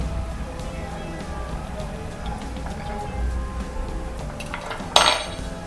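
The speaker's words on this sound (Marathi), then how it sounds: "हलवून घेऊ।" A spoon scrapes and clinks in a pan as shepu (dill) vegetable is stirred, soft close rattling with a sharper metallic clatter near the end, under quiet kitchen background noise.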